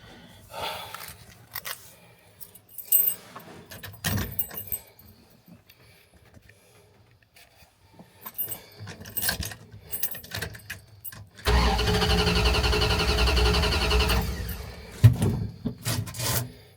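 A 1982 Dodge truck engine cranks and catches after a few uneven attempts, then settles into a loud, steady run for several seconds, close by, with scattered clunks and handling noises around it.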